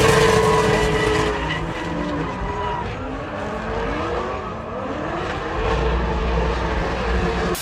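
Professional Mustang-type drift car engine roaring and revving hard, with rising and falling engine tones and a tire-squeal edge, loud and continuous, close by with no speech.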